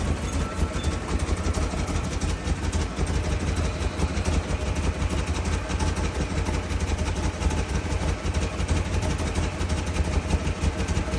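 Engine of a 2008 Ford Expedition idling under its own power with no throttle, a steady, loud, rumbling drone that holds constant throughout without revving.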